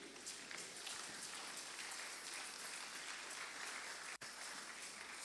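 A church congregation applauds steadily, a dense, even wash of many hands clapping at a moderate distance, continuing throughout with only a momentary drop.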